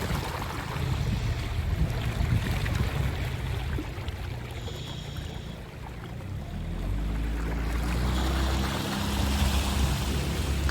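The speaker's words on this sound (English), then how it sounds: "I loved fishing in this small boat." A small fishing boat's outboard motor drones steadily through a narrow back creek, with water churning and wind rushing over it, the engine holding a low continuous hum throughout.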